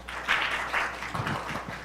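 Audience applause in a conference hall at a landscape society academic meeting, welcoming a presenter to the podium; a steady wash of clapping at moderate level that fades slightly toward the end.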